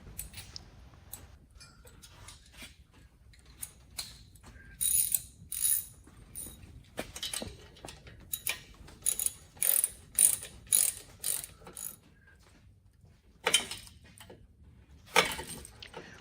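A hand ratchet tightens a nut on a Lycoming aircraft engine cylinder, with close, crisp clicking in quick irregular bursts and short pauses between strokes, with no speech.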